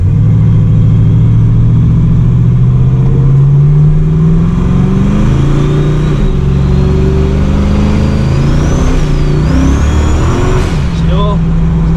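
A car fitted with a Ford 8.8 limited slip differential accelerates on a cold road with cold tires, a loud close engine rising in pitch through the gears while tires spin and squeal briefly near the end.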